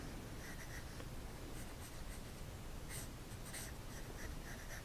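Pencil sketching a hippopotamus drawing on paper, with soft continuous scratchy strokes and a few brighter scribbles, close and quiet with no talking.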